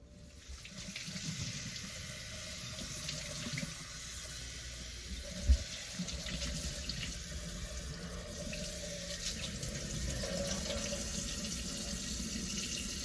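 Tap water runs steadily into a sink during a hair-washing routine, a close, continuous splashing rush with one brief knock midway.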